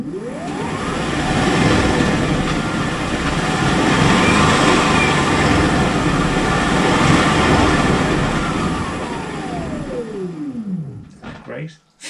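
An electric motor in an Audi 80 EV conversion spins the drivetrain in first gear through a newly fabricated coupler. Its whine sweeps up, holds for several seconds, then winds down and stops with a few clunks.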